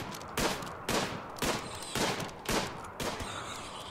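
Colonists in RimWorld fire at beavers, with seven sharp gunshots spaced about half a second apart in a steady rhythm, fairly quiet and with no talking.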